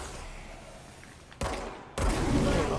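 Gunshots in the video game Control, two sharp loud blasts about half a second apart, the second followed by a lingering crackling tail over a low rumbling background.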